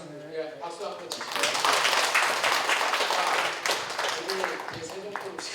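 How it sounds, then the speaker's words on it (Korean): Audience applause at a Korean business forum lecture, a broadband burst of clapping that swells to full strength in the middle and then thins out, with a speaking voice running over it at the start and near the end. "박수 한번 주시죠"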